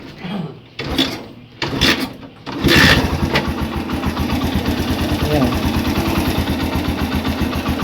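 A Suzuki GS125 motorcycle engine, freshly overhauled, starts after a few short bursts and settles into a steady, close idle with a regular low putter, with some speech-like sound over the opening.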